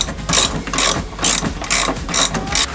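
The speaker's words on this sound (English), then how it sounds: "when I actually put a wrench on it" Wrench ratcheting on a nut of a boat rudder bracket, a close, rhythmic series of clicking bursts, about six quick strokes in steady succession.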